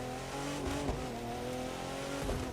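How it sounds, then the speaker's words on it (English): A Renault R.S.01 race car in The Crew 2 accelerating hard on a top speed run, its engine a loud, steady, close high-revving roar with harmonic whine and brief shifts, no talking over it. "let's see what the top speed on the new Renault RS1 is"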